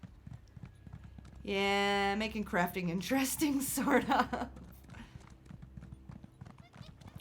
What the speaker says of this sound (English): we'll get on a horse and run away.